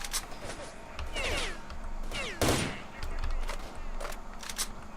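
Gunfire in the shooter game S.T.A.L.K.E.R. Shadow of Chernobyl, several sharp shots and short bursts with a loud crack in the middle, heard alongside someone talking.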